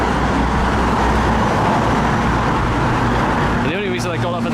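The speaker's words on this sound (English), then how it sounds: "Traffic's kind of loud, like." Loud, steady roar of road traffic close by in Sunderland, with vehicles rushing past continuously; a voice briefly speaks near the end.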